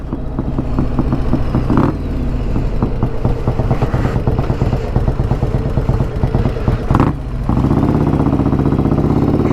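A loud custom Harley-Davidson motorcycle riding on a highway, its engine throbbing in a heavy rhythmic rumble with gear changes and brief revs, close and steady with wind noise.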